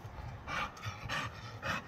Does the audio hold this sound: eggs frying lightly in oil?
no